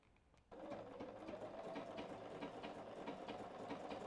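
A sewing machine zigzag stitching along the very edge of fabric for a toddler pillowcase, starting abruptly and running as a steady, close mechanical whir with rapid rhythmic ticking.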